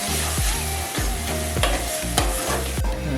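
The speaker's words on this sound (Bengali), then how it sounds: "নুনটা দিয়ে দেওয়ার পরে মশলাটা মিশিয়ে নিচ্ছি" A spatula scrapes a spice masala with salt around a frying pan in rhythmic strokes, about one every half second. The sizzle is loud and close throughout, and nobody speaks.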